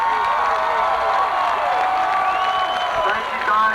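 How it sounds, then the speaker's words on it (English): A crowd at a high school football senior recognition applauds and cheers in a sustained wash of clapping, with scattered shouts and whoops mixed in. "let's give these seniors a big round of applause."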